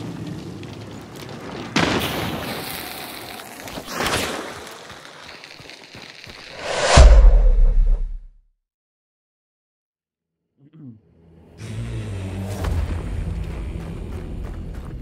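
Heavy gunshots from a starting gun in the first-person shooter Hunt: Showdown, a few loud booming reports with rumbling tails, then a sudden stretch of silence before the noisy action resumes.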